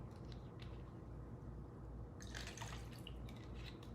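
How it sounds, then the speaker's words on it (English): A splash of dirty martini mix is poured while making dirty martinis. Faint, brief liquid trickling and dripping sounds rise over quiet room background in the second half, with no talking. "Just a splash of dirty martini mix."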